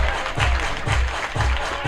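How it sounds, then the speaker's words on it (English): Fans clap along at a college baseball game between Johnson and Bowie, loud rhythmic unison claps about twice a second over general crowd noise. "Everybody clap your hands."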